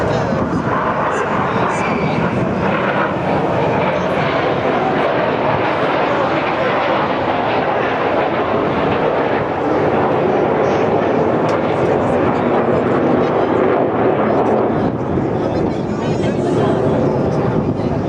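Red Arrows jets flying a display at the Clacton-on-Sea air show in Essex: a sustained, loud jet roar that swells and recedes with the passes, mixed with wind buffeting on the microphone and crowd noise.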